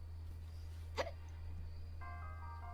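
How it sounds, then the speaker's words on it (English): One short, sharp hiccup, made on purpose by a streamer, sounds once, close up, over a steady low electrical hum, followed by faint high tones. "That was a fake hiccup."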